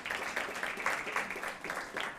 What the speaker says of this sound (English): let's give a clap offering